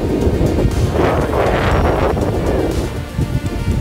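Strong coastal wind in Galicia buffets the microphone with a heavy, roaring rumble, gusting steadily for a few seconds with a faint watery wash of waves behind it.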